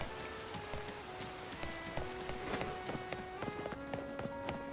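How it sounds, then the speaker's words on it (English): Steady rain falling in the video game Pokemon Legends Z-A, a continuous patter on surfaces that runs under light game music and small footstep-like taps throughout. "I'm gonna stand out here in the rain with the crazy lady."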